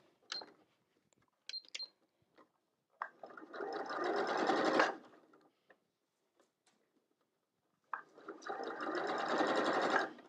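Sewing machine stitching quilt fabric strips along a marked line, running in two sustained bursts of steady rapid stitching separated by a pause with a few small clicks.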